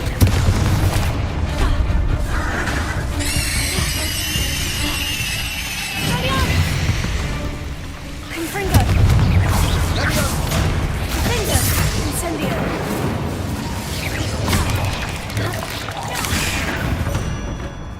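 The Bombarda spell in the video game Hogwarts Legacy goes off as loud, booming blasts and crashes in repeated bursts, mixed with game effects and a voice speaking.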